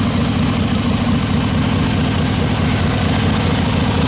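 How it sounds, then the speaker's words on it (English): A Harley-Davidson Ironhead Sportster XLCH motorcycle engine idling close up, a loud, steady, even rumble with a fast regular beat that holds unchanged throughout. "Now the bike sounds so even."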